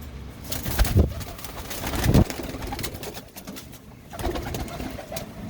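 Domestic pigeons in a fancier's loft coo in low, throaty rolls, with a couple of louder bursts near the start, over steady background bird noise.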